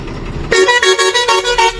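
A Virar-bound Swami Travels bus pulls out of the Ajara depot in the evening, its horn sounding in a rapid series of loud, close honks over the engine.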